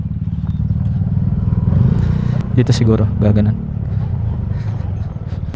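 A motorcycle engine runs steadily and close by in Madaymen, Kibungan, Benguet, a low rumbling drone beneath people talking, with a few clattering knocks partway through.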